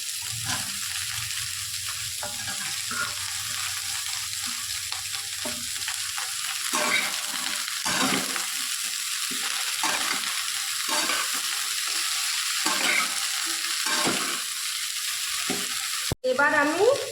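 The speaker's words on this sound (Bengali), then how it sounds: "এবার আমি বিনস, ক্যাপসিকাম আর গাজর সমস্ত লাল করে ভেজে নেব।" Beans, capsicum and carrots fry steadily in a pan of hot oil for a Bengali-style mixed vegetable dish, giving a continuous close sizzle broken by frequent stirring scrapes, with a sharp clatter near the end.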